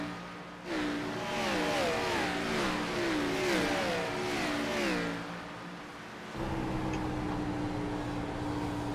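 A Can-Am race car's engine in the iRacing simulator, revving up through a rising and falling whine of gear changes, fairly loud, then settling into a steady drone.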